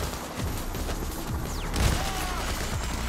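Gunfire in the video game PayDay The Heist, a dense fusillade of rapid shots with a louder burst near the middle, steady and close throughout.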